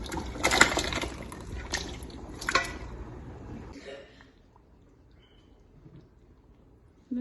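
Tomato beef stew is stirred in a pot with wet, squelchy sloshing and dripping that is steady for a few seconds, then fades into near silence.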